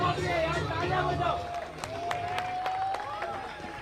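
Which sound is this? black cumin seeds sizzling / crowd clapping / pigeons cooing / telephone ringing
crowd clapping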